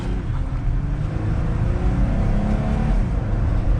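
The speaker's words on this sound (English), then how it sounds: "We'll do another acceleration in manual." Loud, continuous engine drone from a 2022 Jeep Gladiator Mojave 4X4 with an 8-speed transmission accelerating in manual mode, heard from inside the cabin as a low, steady rumble that slowly rises in pitch.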